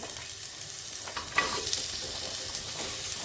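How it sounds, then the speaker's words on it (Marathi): Mixed vegetables being sautéed in a little oil in a pan, with a continuous soft sizzle and occasional stirring scrapes, close up and without talking. "आता ह्या सर्व भाज्या एकदाच टाकून मी परतणार"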